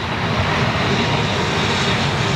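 A jet airliner takes off with a loud, steady, broadband engine roar that fills the whole stretch, close by and continuous, with no voices over it.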